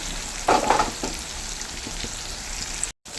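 Choora tuna fries Kerala-style in a pan over a low flame, giving a close, steady sizzling hiss with a few brief louder bursts early on and a short dropout near the end.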